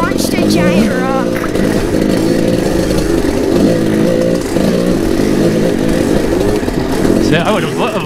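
Kawasaki KDX220 dirt bike engine runs loud and steady while it rides over river-bed rocks, revving and wavering throughout, with a voice talking over it.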